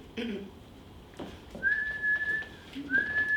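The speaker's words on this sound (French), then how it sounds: "Jetez rapidement vos mégots sur le quai et remontez avant le coup de mon sifflet." A whistle blown in two sustained shrill tones, the first held about a second and the second briefly after a pause, faint rustling and a voice murmur beneath.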